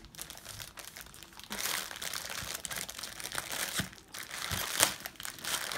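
Plastic packaging of a Candi-Band bracelet kit being opened up close, with continuous crinkling and crunching and a sharper snap near the end, heard alone.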